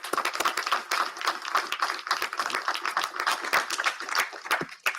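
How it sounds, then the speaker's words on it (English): An audience at an opening session applauds the event's logistics team, with dense, steady clapping from a large crowd that fills the room for the whole stretch, slightly distant and even in level. "let's start with a round of applause and thank them for getting us here today"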